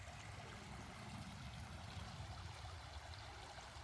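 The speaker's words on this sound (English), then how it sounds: "Sometimes it's nice to just come out here and listen to the water" Steady water flowing in an outdoor stream at a rural Portuguese home, a continuous close rushing and trickling wash with a low rumble, no voices.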